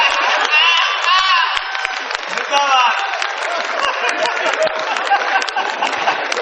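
A large crowd at a Kavi Sammelan poetry recital at Taj Mahotsav 2017 bursts into loud, sustained applause with cheers and whoops that stay dense and close throughout.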